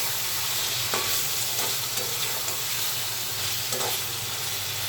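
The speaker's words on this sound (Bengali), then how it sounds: "মশলাটা কষে গেছে, এখন আমি মাছগুলো দিয়ে দিলাম।" Taira fish pieces fry in spiced masala in a pan, giving a loud continuous sizzle and hiss with occasional stirring scrapes, close up and with no voices.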